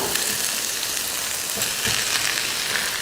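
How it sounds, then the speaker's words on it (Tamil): Ground soya fries in spiced oil in a pan, a steady, loud, close sizzle that never lets up. "மசாலா லைட்டாக எண்ணெயில் கலந்து விட்டதுக்கப்புறமா நம்ம அரைச்ச சோயாவை இதில் சேர்த்துக்கலாம்"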